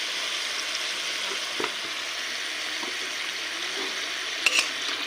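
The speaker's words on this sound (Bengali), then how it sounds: "তারপর ভালো করে মিক্স করতে হবে এইভাবে পেস্টটাকে একটু নেড়ে নিতে হবে চারিদিকে" A spice paste with sugar and cumin paste is stirred in a pan, giving a soft, steady hiss with a few faint scrapes and one brief clink near the end, with no talk.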